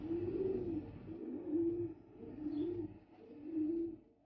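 A racing pigeon hen cooing softly and close by, with four or five low rolling coos in a slow rhythm and no talking.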